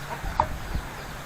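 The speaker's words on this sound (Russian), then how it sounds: "тут такие курицы" Chickens in a South Vietnamese farmyard give a short, faint cluck over low, steady background noise, with no voices nearby.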